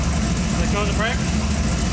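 A Chevrolet Camaro engine idles with a steady, continuous low rumble throughout, and a brief voice-like sound rises over it near the middle.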